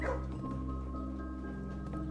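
Dog barking in the video game Blue Prince, faint short bark and whimpering yips over a steady hum of game music.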